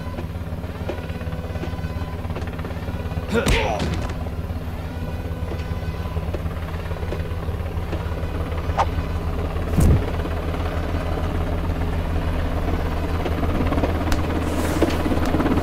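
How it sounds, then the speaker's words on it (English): A helicopter's steady rotor and engine drone, loud and continuous, with a few brief rattles and knocks along the way. "Yes, that's a helicopter."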